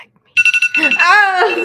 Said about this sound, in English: That was the timer.